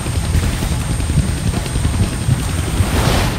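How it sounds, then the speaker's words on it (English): Helicopter in a Deadpool video game, a steady low rotor thrum with rapid chopping pulses that holds at a constant level throughout, sounding fairly close, with no talk over it. "I can't kill that chopper with my guns"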